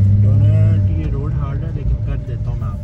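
A Nissan 350Z, engine still cold, revs in a strong low drone that wavers and climbs as it attempts a donut, close and loud, with someone talking over it.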